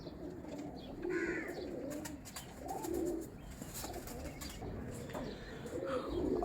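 Pigeons cooing in soft, low repeated phrases around a large female sitting on her chicks, with faint chirps and a steady background hum.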